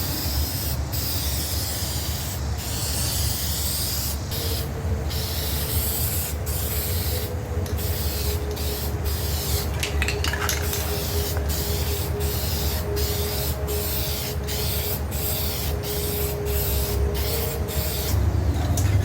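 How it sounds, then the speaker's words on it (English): McCulloch trim and bumper dye sprays from an aerosol can onto the plastic of an RZ 5424 lawn mower cutting deck, a steady close hiss broken by short regular pauses between passes, with no voices. "we're just using this trim and bumper paint by McCulloch"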